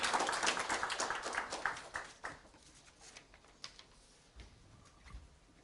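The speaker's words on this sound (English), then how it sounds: "So, with a loud round of applause for Mr. Jairam Ramesh." An audience at a science diplomacy programme event claps, a dense burst of applause at the start that thins into scattered claps and fades out within a few seconds.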